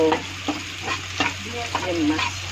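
Cumin seeds in hot oil for fish curry, giving a close sizzle with repeated light stirring scrapes at a loose, uneven rhythm.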